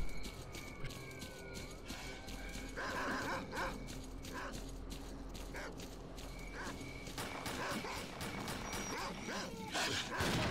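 Dogs bark, yip and whimper through a dense in-game soundscape of S.T.A.L.K.E.R. Clear Sky, repeated bursts fairly close, mixed with gunfire-like thuds and ambient noise throughout.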